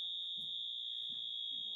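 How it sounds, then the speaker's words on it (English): Fire alarm sounding as a steady, piercing high-pitched tone throughout, with speech from a person talking over it in a large room. "Is that the fire alarm?"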